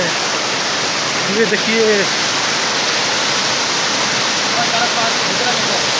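A waterfall pours in a steady, loud, close broadband roar, with a few brief spoken words over it.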